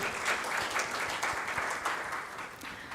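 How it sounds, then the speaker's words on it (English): Steady applause from a crowd at a vegan festival in Nepal, dense clapping that holds at an even, fairly loud level throughout without a break. "Let's give him a huge round of applause."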